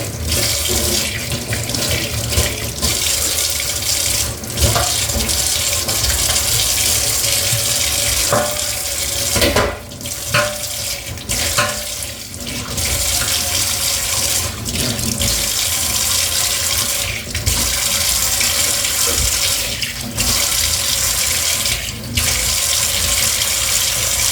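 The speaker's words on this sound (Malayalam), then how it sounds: "ഇനി നമുക്കൊന്ന് ഇതൊന്ന് വെള്ളം ഒഴിച്ച് ക്ലീനാക്കി നോക്കാം" Water runs steadily from a tap into a blocked kitchen sink as it is rinsed clean, a loud continuous splashing rush lasting throughout with a few brief dips, and no voices.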